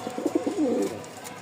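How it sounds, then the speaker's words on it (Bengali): A male Lakkha pigeon coos in a short burst of soft, throaty pulses close by, with no talk. "নরের এবার ডাকটা দেখেন মাশাআল্লাহ"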